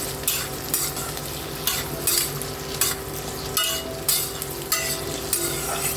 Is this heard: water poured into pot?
no